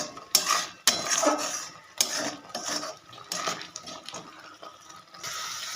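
A metal spoon scrapes and clatters repeatedly against a pan while stirring a coconut and peanut mixture, with irregular knocks and scraping strokes, close and moderately loud without talking.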